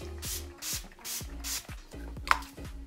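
An Urban Decay All Nighter makeup setting spray is pumped in about six short, sharp misting hisses at a steady rhythm, close and fairly clear, with faint handling noise between bursts.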